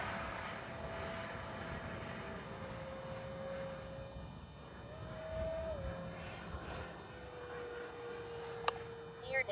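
A Freewing F-16 70mm electric ducted-fan RC jet flying in gusty wind, a faint, distant whine that rises and falls in pitch as it passes, over soft wind noise and low hum.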